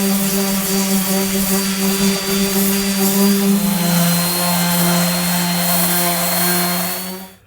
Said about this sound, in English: we've got to do a whole load of sanding on that roof dome on the outside